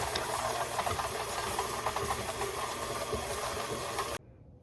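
An electric mixer whirs steadily through chocolate chip cookie dough, a continuous buzzing motor drone with light rattling, running loud and close before cutting off abruptly near the end.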